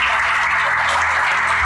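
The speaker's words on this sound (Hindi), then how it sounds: "इनका जोरदार तालियों से स्वागत करें।" An audience applauds at a trust event, a steady wash of clapping filling the room for a couple of seconds.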